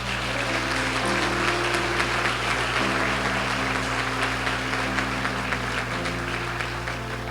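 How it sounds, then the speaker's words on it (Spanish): Steady applause from a church congregation honoring the Lord, sustained and dense for the whole stretch over a constant low hum and faint held tones, with no voice rising above it. "¿Le quieres dar un aplauso al Señor?"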